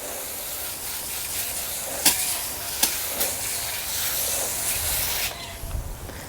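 Water from a spray nozzle rinses a car wheel and tire, a continuous close hiss of spray with a few sharp splashes and knocks along the way, and nobody speaking.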